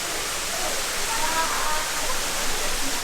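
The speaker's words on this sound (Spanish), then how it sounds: "la cascada, que justo nace aquí en las entrañas del Tacaná" Waterfall rushing at its source on the Tacaná volcano in Chiapas, a steady, dense broadband roar of falling water, continuous and fairly close, with a faint voice briefly audible beneath it.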